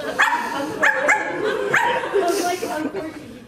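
A voice imitates a little dog barking, giving a few quick high yips and yaps in short bursts, close and clear.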